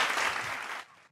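An applause sound effect fires off during a golf podcast, a dense burst of clapping that lasts about a second before cutting out abruptly.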